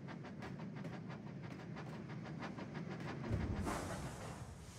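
A train rumbles along the rails with a steady rhythmic clatter of wheels, a burst of hissing noise joining toward the end.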